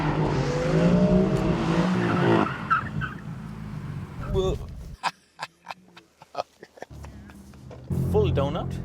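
A BMW M4 spins a full donut drift on a closed course, its engine roaring loudly with tire squeal for the first few seconds. A quieter stretch of scattered clicks and bumps follows, then the engine swells again, with a voice talking over it.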